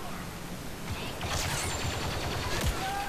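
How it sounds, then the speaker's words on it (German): Blaster gunfire from a Star Wars Battlefront II battle crackles in rapid bursts and volleys, with sharp shots standing out over a dense layer of game noise and no clear voice. "Ich baller ihn wahnsinniger in die Richtung."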